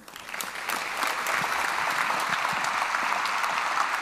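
Audience applause at a lecture welcoming a speaker onto the stage, starting lighter then swelling into steady, full clapping from a seated crowd that holds evenly to the end.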